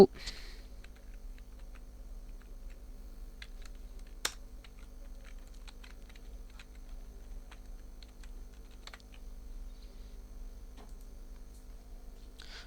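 Faint, quick keystrokes on a computer keyboard tap out a short phrase, a light scattered clicking over a low electrical hum, with one slightly louder click partway through.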